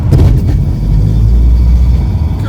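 A light aircraft's piston engine rumbles steadily and loudly close by after starting, a low continuous drone that holds even from start to finish.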